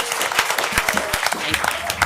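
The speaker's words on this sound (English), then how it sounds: "Let's give all of our honorees tonight another well round of applause." An audience at an evening school board meeting claps for its honorees, a scattered patter of hand claps with a few murmured voices underneath, moderately close.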